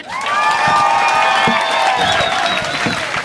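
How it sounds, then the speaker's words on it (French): An audience at a comedy show breaks into loud, sustained applause mixed with cheering and whoops, the crowd noise filling the room from start to finish. "On les applaudit!"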